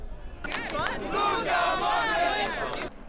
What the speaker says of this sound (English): Football fans in America cheered on Real Madrid and Manchester United